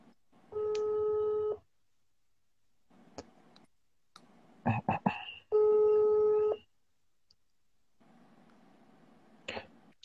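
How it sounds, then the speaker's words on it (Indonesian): A telephone busy signal sounds while a call is being placed, two long, loud tone bursts separated by gaps, with clicks, a cough and faint voices between them. "Ntar aku Pak James telepon dulu belum ya"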